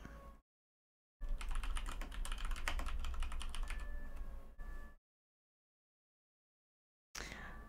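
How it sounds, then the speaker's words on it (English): Computer keyboard typing in a quiet room, a steady run of quick close key clicks lasting several seconds, followed after a pause by a brief second burst. "I'll type it out."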